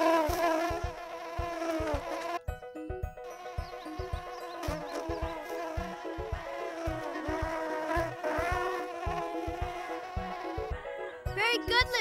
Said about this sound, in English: The bee is coming for its pollen.